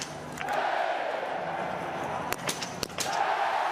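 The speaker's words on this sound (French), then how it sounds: "Toute la foule s'est mise à l'applaudir sur un tir magnifique" A biathlon crowd at Oberhof roars and applauds Denise Herrmann, a sustained wash of cheering broken by a few sharp claps or cracks near the end.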